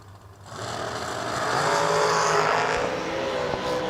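A dragster on a drag racing run at the King of the Shore event roars in and builds to a loud, sustained engine howl before easing slightly, heard from a distance with no talking.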